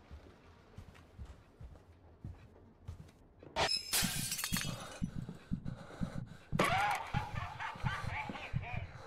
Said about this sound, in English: If that glass shatter hadn't happened first to kind of take the edge off